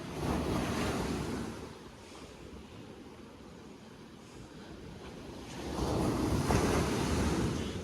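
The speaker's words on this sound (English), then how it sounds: "Look at these waves." Sea waves roll and break on rocks in a broad, continuous surf wash that swells, eases, then builds again, with wind noise buffeting the microphone.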